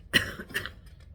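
A single short, sharp cough close by, followed by a fainter second rasp, then quiet room tone.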